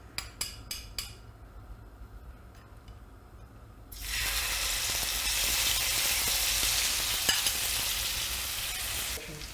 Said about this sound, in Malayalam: അത് ഞാൻ എണ്ണയിലേക്ക് നമ്മൾ ഉണ്ടാക്കിയ ആ പേസ്റ്റ് ഇട്ട് കൊടുക്കുകയാണ്